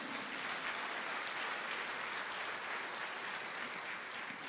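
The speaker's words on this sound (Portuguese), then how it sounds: "Vamos aplaudir ao Senhor." A church congregation applauds together in a steady, dense wash of clapping that holds evenly throughout, fairly quiet and without any voice on top.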